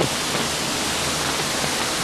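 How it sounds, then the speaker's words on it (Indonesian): Waterfall thundering at Goa Riang cave in Tabanan, a steady, loud, dense roar of falling water that holds unbroken throughout with no voices over it. "air terjunnya sangat bising"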